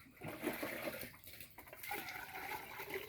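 Water being scooped and poured in a home vegetable garden, a splashing, gurgling pour that fills most of the moment with a short pause in the middle, fairly close and with no one talking.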